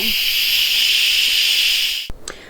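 An Instant Pot pressure cooker holding risotto rice vents steam in a quick release, giving a loud, steady hiss that runs unbroken for about two seconds before cutting off abruptly, followed by a faint clatter.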